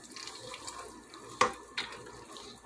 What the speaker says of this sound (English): We're just going to stir.